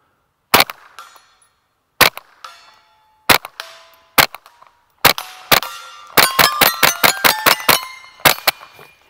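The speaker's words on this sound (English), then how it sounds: "Now I am shooting this suppressed, so it is much quieter than usual." A suppressed Ruger 10/22 bull-pup rifle fires a string of sharp, fairly quiet cracks outdoors, first spaced single shots and then a rapid cluster of about ten quick reports, each with a short metallic ring.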